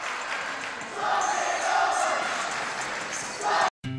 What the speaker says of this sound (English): This crowd getting excited